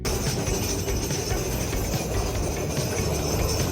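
Inside a Lisbon tram on the move, a loud, constant rumble of wheels on rails and rattling car body fills the space, steady throughout with no voices.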